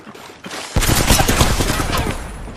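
Gunfire in the video game Apex Legends: a burst of rapid automatic shots breaks out after a quieter lead-in and holds as a dense, loud, continuous volley, with no voices.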